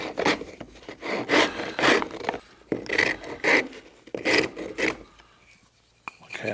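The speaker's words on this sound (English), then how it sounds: "As you see, you can use a rasp here too." Rasp filing wood during hand carving of a classic cup and ball toy, heard as several bursts of rough rasping strokes in an irregular rhythm with short pauses, close and fairly loud, with no talking.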